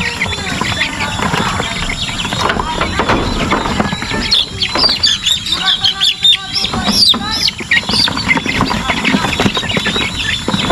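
Chickens and a turkey cluck and squawk close by with sharp, high chirps and calls, busy and overlapping throughout, mixed with some background talk.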